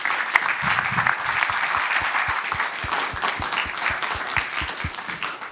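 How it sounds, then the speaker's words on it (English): A conference audience applauds speaker Gráinne during a session, a steady, moderately loud roll of many hands clapping that keeps an even pace throughout. "let's give Gráinne a round of applause before we move on"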